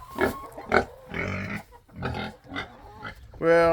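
Pigs grunt and squeal at feeding time on a farm, several short bursts in quick succession at close range, with a higher squeal near the end.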